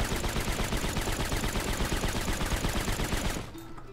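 Loud, rapid automatic gunfire in the game Rust during a raid, a continuous stream of shots for over three seconds that cuts off abruptly, leaving a faint quiet tail.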